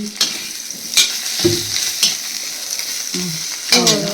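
Food roasts in a pan while a vada meal is being cooked, giving a continuous close sizzle broken by repeated spatula scrapes and clanks against the pan.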